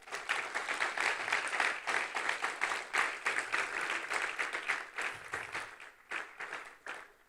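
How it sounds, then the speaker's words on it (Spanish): Church congregation applauding during a sermon, rapid clapping that pulses in waves and thins out toward the end, nearby and fairly clear, with little talk over it. "Denle un aplauso al Señor"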